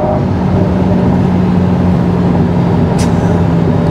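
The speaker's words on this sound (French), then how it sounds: "ce sifflement là des turbines" An Alpine A110 accelerates on a straight road, heard as a steady, loud engine roar from inside the cabin, with a brief high turbo whistle near the end and no talk.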